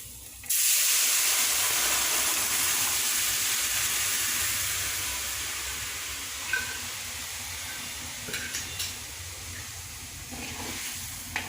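Soaked chickpeas and mung beans for a chana tarka poured into a hot oiled pan with turmeric, bursting into a loud, steady sizzle and hiss that slowly fades, with a few clinks of utensils near the end.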